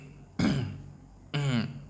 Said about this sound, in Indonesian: Tadi kita katakan berdehem